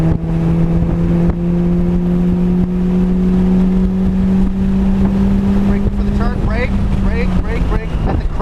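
A 2006 Mitsubishi Evo 9 MR accelerating on the Laguna Seca track, its engine note a loud, steady drone heard from inside the car with wind rush and a voice speaking near the end.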